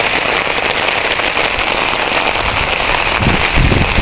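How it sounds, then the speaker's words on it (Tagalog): Heavy rain pouring down during a sudden downpour near a bus stop on the way home, a dense, loud, steady roar with spattering drops close by. "lumakas yung ulan, guys"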